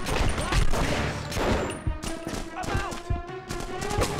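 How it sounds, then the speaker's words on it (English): Enemy gunfire in The Punisher on PS2, heavy overlapping volleys of shots from several directions, loud and continuous, with game sounds and clipped bursts mixed through. "everyone's shooting me from every which way!"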